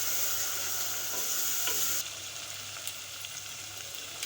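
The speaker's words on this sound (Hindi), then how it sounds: "हरी मिर्च डालने के बाद भी हम इसको अच्छे से फ्राई कर लेंगे" Green chilli paste fries steadily in a pan for an aloo gosht shorba, a broad continuous sizzle that softens partway through, with a few faint clicks and scrapes and no one talking.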